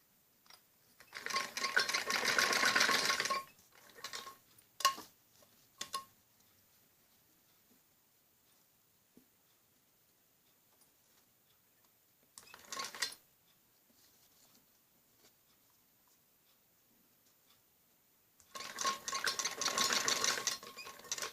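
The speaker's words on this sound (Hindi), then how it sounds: "यहाँ पे सिलाई ऐसे मशीन उठाकर ही लगानी होती है" A sewing machine stitches a kameez neckline in short bursts of rapid mechanical whirring, a long run near the start, brief spurts, a short run midway and another at the end, separated by quiet pauses.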